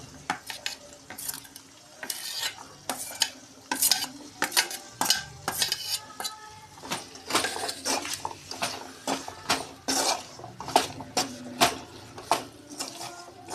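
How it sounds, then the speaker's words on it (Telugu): Small-cut potatoes frying in a pan while a utensil stirs and scrapes them, producing repeated clattering strokes over a steady soft sizzle, close up with no talking. "ఇప్పుడు ఆలుగడ్డలు వేస్తున్నా."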